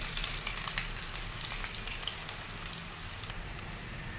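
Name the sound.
chopped onion frying with ginger and garlic in pan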